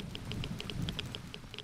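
Acid rain falling in the video game ZERO Sievert, a steady pattering hiss with regular light droplet ticks over a low rumbling bed, moderately quiet and continuous.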